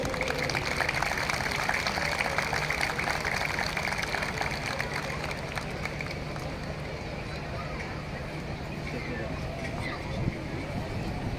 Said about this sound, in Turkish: Efendim alkışlıyoruz.